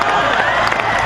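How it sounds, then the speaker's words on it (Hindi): At a Hindi poetry recital, a mushaira in Samastipur, an audience breaks into loud, dense applause mixed with cheers, a continuous wash of clapping from many hands close by. "मैं जानता हूं जितने लोगों ने तालियां बजाई हैं"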